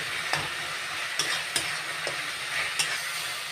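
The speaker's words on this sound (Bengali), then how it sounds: "মশলাটা আমি ভালো করে কষিয়ে নেব যাতে আদা রসুনের গন্ধটা না আসে" Spice paste of ginger and garlic is fried and stirred in a pan, giving a steady close sizzle broken by several sharp scraping clicks of the spoon against the pan.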